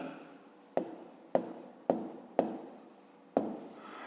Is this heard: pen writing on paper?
yes